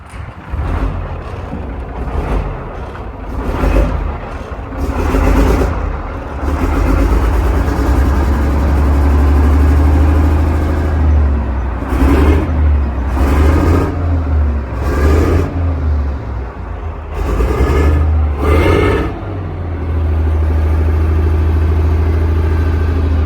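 A car engine once written off as scrap idles steadily with a deep, even rumble, broken by several short, light revs that swell and fall back, with no voices over it.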